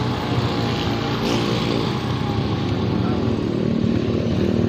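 Loud, steady engine drone and wind rush from a motorcycle being ridden with a passenger on the back, with speech mixed in.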